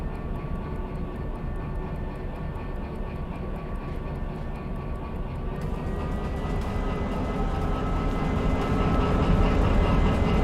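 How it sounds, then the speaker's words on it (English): A locomotive in the Derail Valley train simulator rumbles steadily with a low, droning engine hum and faint mechanical whine, growing slightly louder and denser toward the end. "We're gonna back up the trailing locomotive in front of this DE2."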